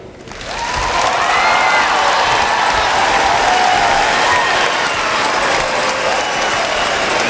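An audience at a 2017 eighth grade promotion ceremony breaks into loud, sustained applause mixed with some cheering, rising quickly after a brief lull and staying full throughout.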